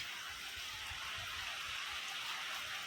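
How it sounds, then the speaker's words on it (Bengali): Steady rain falls around a house, a continuous hiss of drops on surfaces that stays even and close throughout, with no voices. "বৃষ্টি শুরু হয়ে গেছে"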